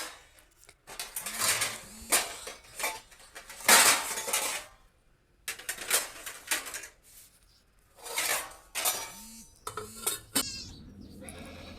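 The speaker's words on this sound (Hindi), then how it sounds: "फिर मैंने लगाए बर्तन रसोई में" Utensils and dishes clatter and clink as they are set out in a home kitchen, in irregular bursts throughout, with short goat bleats also heard nearby.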